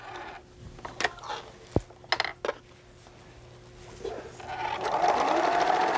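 A sewing machine stitches fabric for a pouch an eighth of an inch from the edge; scattered clicks and knocks come first, then the motor starts running steadily toward the end, close and moderately loud.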